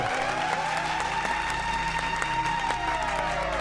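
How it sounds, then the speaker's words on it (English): Studio applause greets a guest on the Double RR Show, a steady wash of clapping that runs throughout, with a sustained tone and faint voices underneath. "We gotta clap it up for FTRW."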